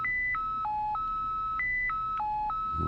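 A Radioddity HD-1 heavy-duty radio plays ringtone melody number 3: a looping sequence of clean electronic beep tones stepping between a few pitches in an even rhythm, moderately quiet over faint background hiss.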